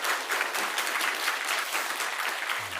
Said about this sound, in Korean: 오늘 먼저 이 자리에 우리를 부르시고 예배하게 하신 우리 하나님께 영광의 박수 올려드립시다